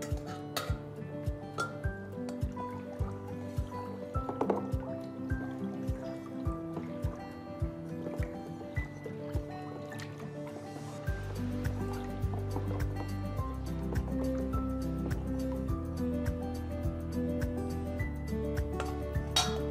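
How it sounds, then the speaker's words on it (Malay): Neptol mixture poured slowly into a basin and stirred for clay batik dyeing, small sloshing, dripping and clinking of liquid against the container, quiet and close, with the stirring growing fuller in the second half. "Masukkan secara perlahan dan gaulkan sehingga sebati"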